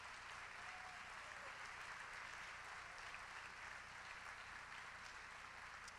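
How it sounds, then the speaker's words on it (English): Audience at a charity gala applauding steadily and loudly, a dense wash of clapping hands that fills the room throughout with no break or voices standing out. "join me in a round of applause to thank these people for what they've done for me"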